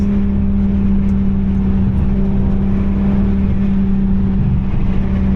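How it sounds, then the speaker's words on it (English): Steady rushing wind roar through an open sunroof inside a moving BMW E46, a constant buffeting hiss over a low engine hum, with no pauses. "Just have to close the sunroof because the wind noise is about hectic"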